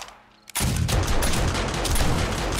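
Automated turrets in 7 Days To Die open up after a brief quiet moment, pouring out dense, continuous rapid-fire gunfire that stays loud and steady to the end.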